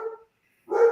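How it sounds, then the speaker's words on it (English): A dog gives two short barks about half a second apart, faint and set back in the room rather than close. "there's a dog barking in the background"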